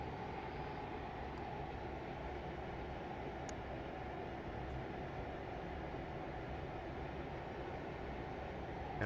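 Steady, continuous drone of an aircraft engine in Arma 3, heard close and loud throughout with no breaks in its level.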